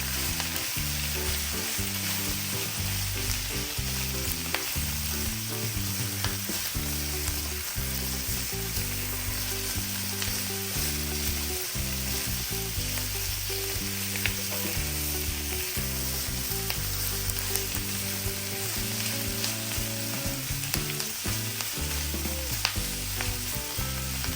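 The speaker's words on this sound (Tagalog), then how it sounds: "Haluin ko nga lamang aridine ng bahagya at nang sa ganun ay magisa din ng konti aring ating atay na rin." Pork liver with onions and garlic sizzling steadily in a pan for a long stretch, with a continuous close frying hiss and repeated stirring scrapes, and no voices.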